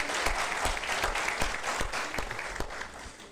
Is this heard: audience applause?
yes